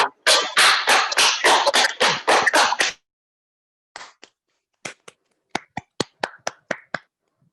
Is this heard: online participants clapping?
yes